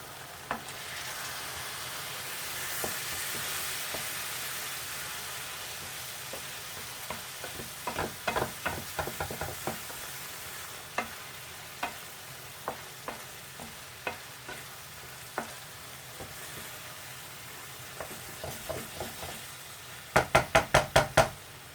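Boiling water poured into sizzling hot chicken pathia sauce in a pan, a steady fry and hiss with scattered knocks and stirring taps, ending in a quick burst of sharp clicks.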